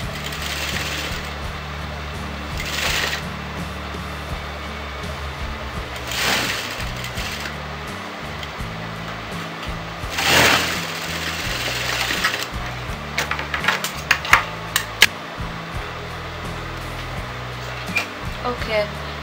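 A home sewing machine stitches a kurti in intermittent bursts of whirring, with pauses between runs and fabric handling and small clatters in between, heard close up.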